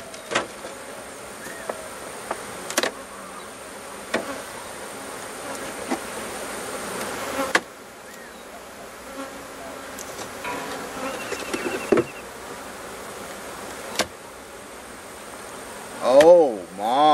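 Bees buzz steadily around an open beehive, a close, continuous drone with occasional louder passes near the listener and brief sharp handling noises.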